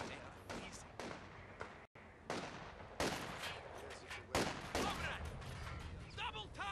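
Gunfire from the video game Company of Heroes 2 comes as repeated sharp rifle and machine-gun bursts over battle noise, loud and dense, with game voices calling out between shots.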